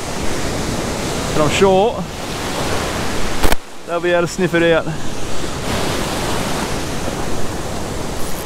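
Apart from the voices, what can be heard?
surf breaking on a beach at dawn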